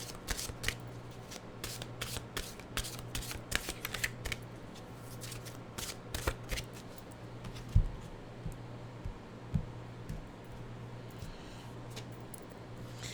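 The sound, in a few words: shuffling mystical wisdom oracle cards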